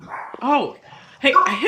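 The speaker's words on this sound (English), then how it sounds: "Sorry about the dogs." Dogs bark and yip in the background during a video call while people talk over them, with short bursts at the start and a louder cluster near the end.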